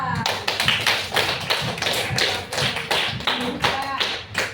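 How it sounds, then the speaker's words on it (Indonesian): A classroom of students gives several seconds of dense, steady applause, many hands clapping close by, with a few voices mixed in. "mari kita beri aplaus buat Chelsea"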